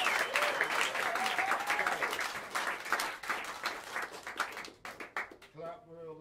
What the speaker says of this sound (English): Put your hands together for Eric Lewis, don't you guys?